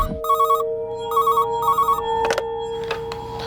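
A telephone rings at a police station, loud and close, with a repeating electronic trill in short bursts, followed by a couple of clicks and a lingering steady tone.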